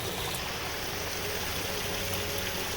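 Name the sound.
creek water flowing in winter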